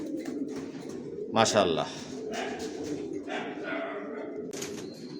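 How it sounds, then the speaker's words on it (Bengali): An adult pair of racer pigeons coos softly and nearby, with a brief burst of fluttering partway through, while someone talks over them. "এখানে এক জোড়া অ্যাডাল্ট কবুতর দেখাচ্ছি"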